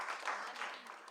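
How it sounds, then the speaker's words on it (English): Brief audience clapping at a group reading, a short, moderately loud patter of hands with no talk over it. "Clap for prettiness."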